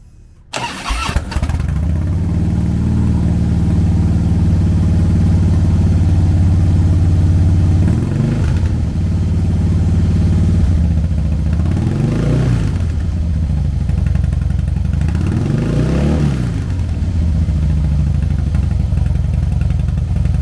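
A 2010 Harley-Davidson CVO Softail Convertible with a 110 cubic inch V-twin fires up, then settles into a loud, steady, close-up idle, broken by three short throttle blips that rise and fall in pitch.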